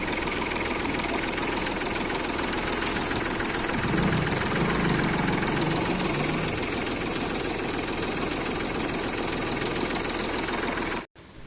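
A worn-out engine in an old used car runs steadily with a rough, tractor-like knocking, loud and continuous for about eleven seconds before it cuts off abruptly.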